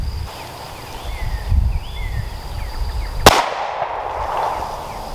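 A SIG P320 pistol chambered in 10mm fires one Buffalo Bore 220-grain hard-cast round outdoors, a single sharp crack that rings out against a steady chirping of insects, with no voices.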